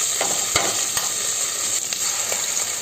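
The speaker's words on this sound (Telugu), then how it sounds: "కరివేపాకు, కొత్తిమీర వేసి వేయించుకోవాలి." Curry leaves and coriander fry in oil in a pan for a homestyle chicken biryani, giving a dense, constant close-up sizzle broken by a few light stirring clicks.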